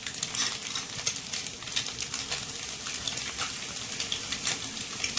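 Long-sliced medium onion fries in a pan for street-style spicy noodles, giving a dense, even sizzle with light crackle and occasional stirring, close and moderately loud.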